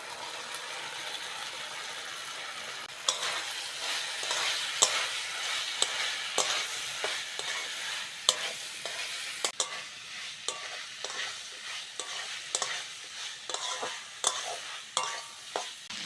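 Yardlong beans and potato tossed into hot spice masala in a pan, a continuous sizzle overlaid by repeated sharp scraping and clacking of a spatula stirring, rhythmic and close.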